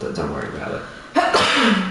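A single sneeze bursts out in a room during a console game session, followed by a short spoken reply.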